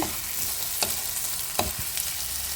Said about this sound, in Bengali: দেখতে পাচ্ছ মশলাটা অনেকটাই কষে এসছে, হালকা হালকা তেল ছাড়ছে